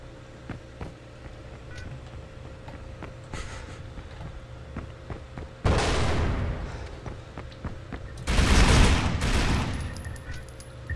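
Gunfire erupts in the stealth video game Splinter Cell: Double Agent, first as scattered sharp shots, then two heavy sustained bursts of automatic fire over a low game ambience.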